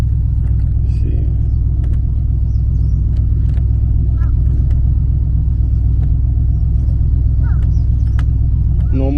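Interior rumble of a 1998 Chevy 5.7 pickup truck with a hydro brake booster on a test drive, a loud, constant low engine and road drone with faint squeaks and clicks, no clear talk.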